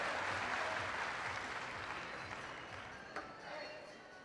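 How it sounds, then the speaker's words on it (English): Steady applause from the audience at a 2013 ITTF Korea Open table tennis match in Incheon fills the hall, a broad wash of clapping that slowly fades, with a commentator talking over it. "Both players back at the table, applauded by the audience in Incheon"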